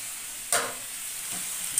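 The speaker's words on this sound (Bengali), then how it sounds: "এবার আমি এখানে এই যে মাংসটা আর আলুটা করে রেখেছি, ভেজে রেখেছি, কষিয়ে দেবো।" Meat and potatoes sautéing in spice paste sizzle steadily in a pan, with a couple of brief louder stirring scrapes and hisses near and alone.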